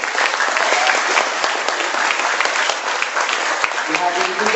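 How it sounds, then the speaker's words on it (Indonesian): A seated audience at a business opportunity presentation breaks into sustained, dense clapping that fills the room for several seconds, with a voice briefly audible near the end. "Beri aplaus dong buat Ibu Esther"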